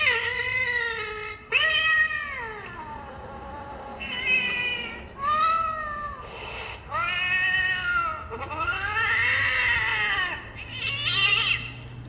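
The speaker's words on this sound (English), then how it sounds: "This here is our sweet cat." A pet cat meows repeatedly and loudly up close, a series of long, drawn-out wailing calls with short pauses between them.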